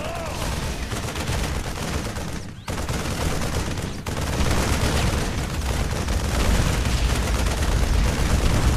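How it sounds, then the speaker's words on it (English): Thor artillery in the video game StarCraft II pounds away in a dense, continuous barrage of booming gunfire and explosions, loud and sustained with a brief dip partway through, overlaid on game sound and some speech. "These special artillery attacks can be used against tough targets like this enemy planetary fortress."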